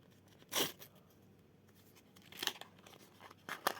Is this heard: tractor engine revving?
no